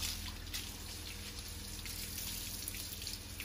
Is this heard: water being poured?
yes